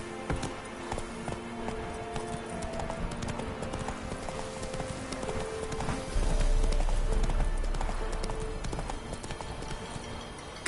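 Roach, Geralt's horse in the video game The Witcher 3, gallops with steady clip-clop hoofbeats over game music and ambience, growing heavier and louder in the second half.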